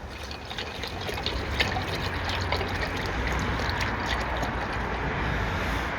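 Pineapple juice pours from a carton into a cocktail glass, a steady close-up liquid trickle lasting several seconds with no talk.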